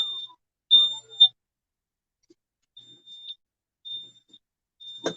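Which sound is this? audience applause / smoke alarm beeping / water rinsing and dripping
smoke alarm beeping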